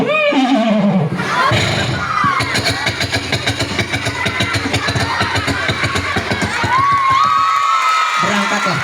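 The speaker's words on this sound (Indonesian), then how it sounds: "Berangkatlah kudanya." A horse gives a loud whinny at the start as a guard rides out toward the village centre, followed by busy cheering and shouting children over steady rhythmic thumping, with another brief whinny-like cry near the end.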